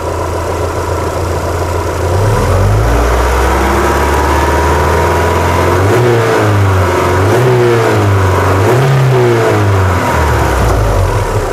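The DOHC engine of a 2001 Chevrolet Blazer idles loudly up close, then is blipped repeatedly, the revs rising and falling in several waves before dropping back to a steady idle.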